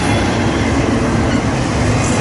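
Freight train cars roll past on the Harrisburg line in a loud, steady rumble with a rhythmic clatter of wheels over the rails, close by and continuous.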